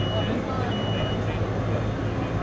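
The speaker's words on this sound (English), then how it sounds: "As soon as that beeping comes off," Steady electronic warning beeping from a concrete vacuum lifter over a loud, constant machine rumble, close and continuous throughout.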